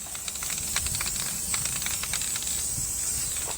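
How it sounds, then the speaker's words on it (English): An aerosol can sprays paraffin wax chain lube onto the jet unit of a Yamaha jet boat, a continuous close, bright hiss with slight sputtering that lasts throughout. "Here, I'll spray"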